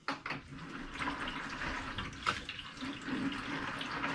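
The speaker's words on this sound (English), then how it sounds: "run a couple liters of water through here, probably like a minute each, just to kind of rinse off the bulk part of the fixer" Tap water runs steadily into a sink in a temporary darkroom, flushing fixer from a tray or tank; a continuous broadband rush with brief splashy bursts, close and fairly loud throughout with no talking.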